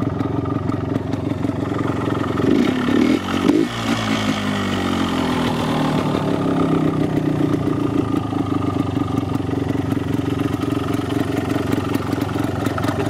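A Honda TY 125 trials motorcycle with its stock 125 cc engine, recorded close and loud. It runs steadily, with a rising rev partway through and some mechanical clatter, and no voices.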